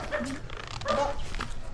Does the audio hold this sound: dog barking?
yes